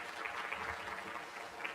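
Applause from an audience at a startup presentation event rises as a steady, even wash of many hands clapping, faint and somewhat distant, lasting the whole moment without any talk.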